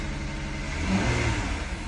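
Rebuilt Volkswagen CC engine on its first run, revving up briefly from a steady mid-pitched idle, the rise swelling near the middle before settling back, close and fairly loud.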